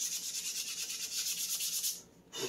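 Sandpaper rubs back and forth over a 3D print in quick, even strokes, a close, soft rasping rhythm that stops briefly near the end before one more stroke.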